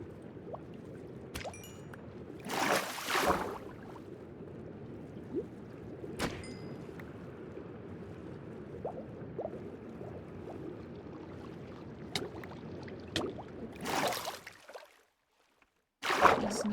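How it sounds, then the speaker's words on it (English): Underwater water ambience from swimming in modded Minecraft, a soft, steady liquid wash with occasional bubbly pops and clicks, a few louder surges, and a brief near-silent gap near the end. "I also like the sounds the water makes."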